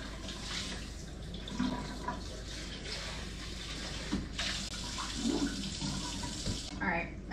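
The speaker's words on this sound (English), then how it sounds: "I just poured that all over the cover to my Instant Pot" Liquid spilling over the lid of an Instant Pot in a kitchen, a continuous splashing, running-water sound lasting several seconds at low volume, with a voice faintly audible.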